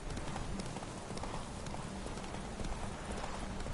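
Horse hooves gallop in steady, continuous clip-clop rhythm through The Witcher 3 video game, loud and close with dense broadband noise, no speech.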